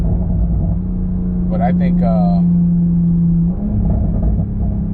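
Toyota Supra with a transmission tune accelerating, a steady engine drone that climbs in pitch, briefly shifts, then pulls on, heard from inside the car with someone talking over it.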